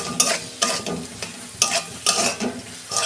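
Tomato and chili powder sauté in a pan with a soft sizzle under rhythmic stirring. Bursts of spoon scraping come roughly every half second, close and moderately loud.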